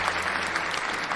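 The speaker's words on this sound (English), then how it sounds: "I gotta give you a round of applause, man" A dense, loud round of applause, rapid continuous clapping from many hands with a faint crowd murmur beneath, steady throughout.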